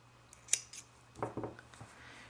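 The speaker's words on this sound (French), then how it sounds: "On coupe le fil" Scissors snip crochet yarn at the end of an amigurumi piece: one crisp close cut, then a quick cluster of quieter snips and clicks in a near-silent room.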